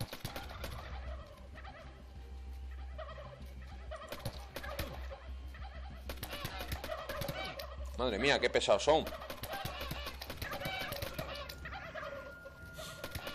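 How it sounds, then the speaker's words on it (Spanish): Killer turkeys gobbling in the survival game How to Survive 2, several rapid gobbling bursts rising over game noise, loudest in the middle, with someone talking now and then. "Pavos, pavos, cuidado que os suenan por ahí pavos."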